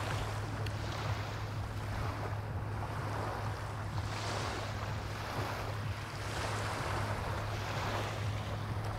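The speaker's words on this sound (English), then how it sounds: "See if you can hear the water." Water and waves wash steadily around a boat on a Staten Island excursion, a constant broadband rush with wind buffeting the microphone and a low engine hum beneath, no talking.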